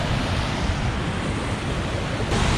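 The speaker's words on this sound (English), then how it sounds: "we just stopped to have a look at the waterfall here" Roadside waterfall along Hadrian's Cycleway in England, a steady broadband rush of falling water with some wind noise on the microphone, constant and fairly loud with no voices.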